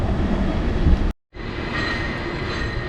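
A San Francisco cable car rolls along its rails in a steady, loud rumble with a rushing, rattling wash of street noise, cut by a brief dropout midway, heard up close from a hilly city street.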